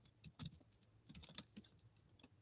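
Computer keyboard typing with quick irregular keystrokes in short bursts, close and clear, with no voices.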